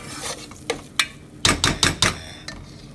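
Green chili being stirred in a pan while cooking chana masala: a series of sharp spoon-on-pan knocks and scrapes, with a quick cluster in the middle, over a faint sizzle. No voices.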